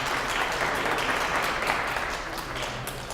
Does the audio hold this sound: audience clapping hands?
yes